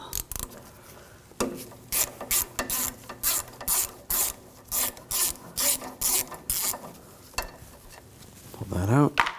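A 10mm socket ratchet clicks rapidly in repeated short bursts, about a dozen strokes, while loosening bolts on the water pump of a 2007-2013 BMW 328i 3.0L inline-six, close up, ending with a brief metallic scrape.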